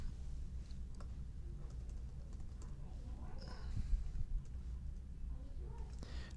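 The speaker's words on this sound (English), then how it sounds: "And then you have to type in your Flickr email address." Someone types on a computer keyboard, a soft stream of close, faint key clicks running throughout at a steady, quiet level with no voice over it.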